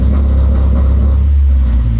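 A car engine with a coil-on-plug ignition conversion and spark and fuel cut holds at launch control, giving a loud, steady low rumble that runs continuously for about two seconds with no talk.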